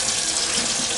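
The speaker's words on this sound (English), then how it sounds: "That is just the hot water. And you can see it's coming out beautifully." Hot water runs steadily from a stainless steel sink tap, a continuous close, even rush of flowing water with no voices.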